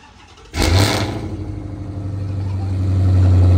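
A Dodge Hellcat SRT engine cranks and starts, then settles into a loud, steady rumble that gradually builds as it revs, close by.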